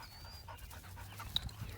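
A dog correcting a puppy that played too rough, heard as faint quick panting with a brief sharp vocal blip, low in level against a quiet room.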